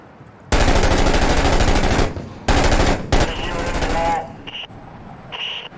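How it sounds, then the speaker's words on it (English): Heavy gunfire in the video game Six Days in Fallujah: long, loud automatic bursts in two main volleys, then a shorter one, with faint radio-style beeps at the end. "No, it's a heavy gun."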